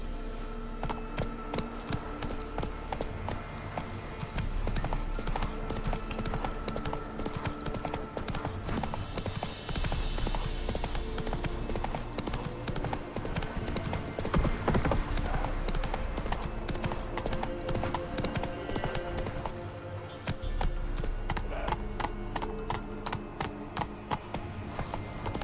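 Roach the horse galloping in The Witcher 3 through the Crookback Bog, a continuous rapid drumming of hooves over a humming game soundtrack, steady and moderately loud throughout.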